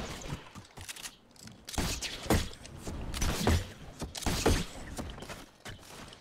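Bursts of video game gunfire in a Slide LTM duo match, several close volleys and thuds spread across the stretch, loud against quieter gaps, with no talk over them.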